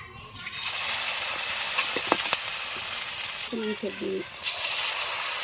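Hot oil sizzling in a pan while cooking a Bengali egg and potato dish, a steady bright hiss holding throughout with a couple of small clicks and a faint voice briefly in the background.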